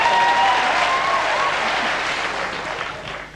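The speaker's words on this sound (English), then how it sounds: "Round of applause for this." Studio audience on a comedy panel show bursting into a loud round of applause, dense clapping that starts full and slowly thins and fades toward the end.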